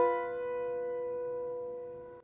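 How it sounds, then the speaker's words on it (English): A tritone interval sounded as a single sustained two-note chord, clear and moderately quiet, fading slowly over about two seconds with no voices. "an interval known as the tritone, and it sounds like this"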